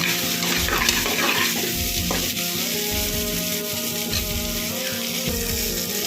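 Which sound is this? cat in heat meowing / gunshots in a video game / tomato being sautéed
tomato being sautéed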